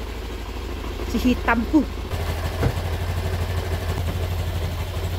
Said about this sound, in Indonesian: Angetin motornya, soalnya harus diangetin setiap pagi.